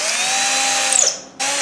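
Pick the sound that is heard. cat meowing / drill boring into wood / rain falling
drill boring into wood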